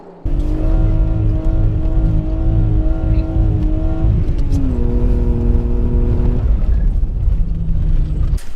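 A BMW E36's engine is running and revving loudly and close, its pitch climbing in sustained rises, dropping briefly, then surging again before easing off near the end.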